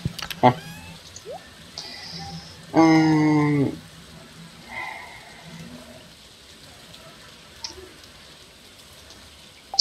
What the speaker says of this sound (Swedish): Så det regnar ju.